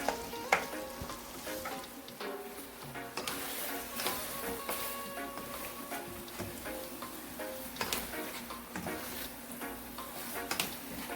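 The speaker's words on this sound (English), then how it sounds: "Now I turn it up on high heat and I'm going to add my broccoli. And I'm just going to give it a stir." Broccoli stir-fries over high heat with chicken, a busy sizzle under scattered clicks and scrapes of a utensil stirring the pan, close and moderately loud with no talk.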